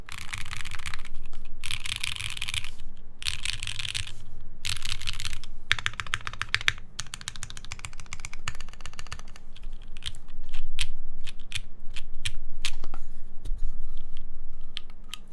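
Keys on a Palmetto60 mechanical keyboard clack in rapid bursts and scattered single presses, crisp and close, with short pauses between runs of typing.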